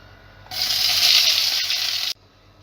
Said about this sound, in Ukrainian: Смажуємо на сковорідці на великому вогні наш нарізаний перчик.